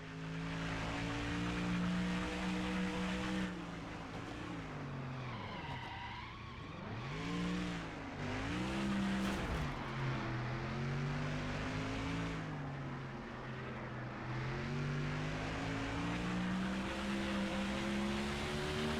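Race car engine in NASCAR Thunder 04 drones with a loud, sustained tone that rises and falls through shifts and corners, with tire squeal between, and no talk.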